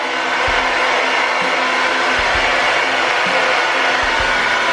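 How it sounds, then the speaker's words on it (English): A blow dryer drying hair roars with a loud, steady whoosh close to the ear, a constant airy hum with faint low bumps as it moves through the hair. "when I blow dry it with the blow dryer"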